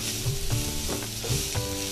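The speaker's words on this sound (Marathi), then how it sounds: "ही डाळ आपण अशी आता परतली" Lentils (dal) sautéing in a pan in a home kitchen, a steady close sizzle broken by a few spoon scrapes and stirs.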